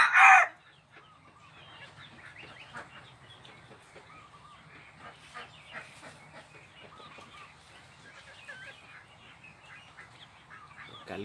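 A white bantam rooster crows once in the morning in a short loud burst at the start, followed by faint, scattered bird calls and clucks in the background.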